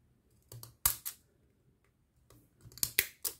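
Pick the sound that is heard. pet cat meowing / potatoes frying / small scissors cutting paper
small scissors cutting paper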